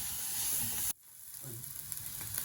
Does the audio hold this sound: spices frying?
yes